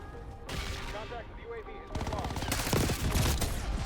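Rapid bursts of XM4 rifle fire in a first-person shooter video game, a dense automatic rattle that grows louder and busier after the first seconds, with faint game sounds and occasional voice between shots.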